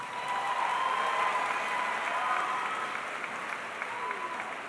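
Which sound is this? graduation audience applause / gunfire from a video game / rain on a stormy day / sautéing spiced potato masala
graduation audience applause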